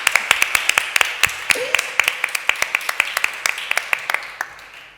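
Sparse applause from a small audience at a panel on mediation and citizen participation, a couple of dozen distinct claps in an uneven rhythm, fairly close and fading slightly toward the end.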